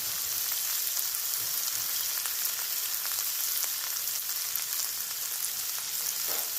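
Spice masala with turmeric and salt sizzles steadily in hot oil as it is sautéed, a dense, even frying hiss with no voices.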